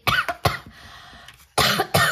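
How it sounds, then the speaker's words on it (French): Several harsh coughs in quick succession, a pause, then two more loud coughs close to the microphone. "j'espère que ma toux va se calmer"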